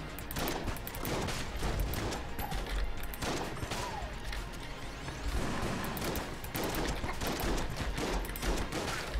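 Repeated shotgun blasts in Enter the Gungeon, dense and steady over about nine seconds amid constant game noise, fairly faint overall with no talking.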